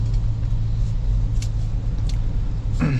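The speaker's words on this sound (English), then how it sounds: "The vehicle is automatically speeding up and slowing down." Ford Ranger Wildtrak 4x4 cruising on adaptive cruise control in light traffic, a steady loud low cabin rumble of engine and road noise with a few faint passing whooshes and no talking.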